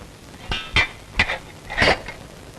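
A spoon clinks against a cup while tea is mixed, four or five bright, close metallic taps at uneven intervals, with the last ones clustered together.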